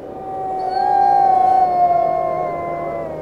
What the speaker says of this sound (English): the only sound you hear is a lonesome dog howling.